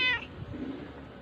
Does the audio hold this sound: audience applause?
no